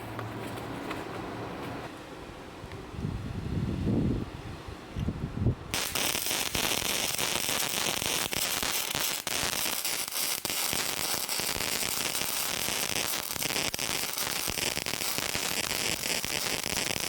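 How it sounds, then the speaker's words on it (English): Welding the foot piece of a bench top vice makes a steady, loud, crackling sizzle that starts after a few seconds of quieter shop noise and carries on evenly up close. "I'm going to weld that around there"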